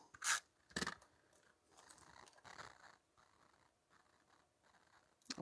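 Scissors snip paper trim for a Stampin' Up! cup holder craft: two sharp close snips, then quieter rustling and handling of the card at low level, ending in another crisp cut.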